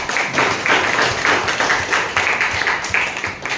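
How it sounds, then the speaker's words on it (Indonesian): A classroom of students applauds a classmate, a steady patter of many hands clapping close by for a few seconds, with some voices mixed in. "tepuk tangan untuk Gadisa."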